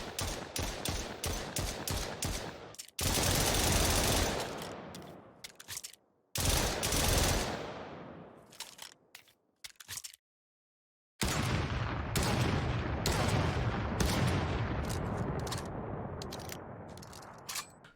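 Gunfire in an Unreal Engine 4 Black Ops Zombies-style first-person shooter game: loud bursts of rapid automatic fire and single shots, broken by short silent gaps, with a sustained barrage in the final stretch.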